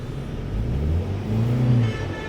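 A car engine runs at a steady low rumble during a driving test, swelling slightly as if revved gently, close by with no talking.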